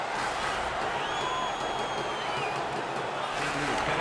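Steady arena crowd roar and cheering in the NHL 17 ice hockey video game after a home-team fight win, a continuous broad wash of noise with a commentator's voice faintly underneath.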